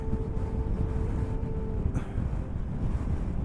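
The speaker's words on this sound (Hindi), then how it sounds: "हवा इतनी तेज चलने लगी है कि बाइक नहीं चलाई जा रही।" Strong Himalayan wind buffets a microphone while a motorcycle is ridden on a high army-built mountain road, a constant loud roaring rumble with gusty low-frequency noise and no talking.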